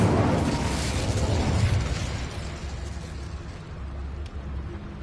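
A loud roaring whoosh of the Incendio fire spell flares up at once and then slowly fades into a lingering crackle, cast in the video game Hogwarts Legacy.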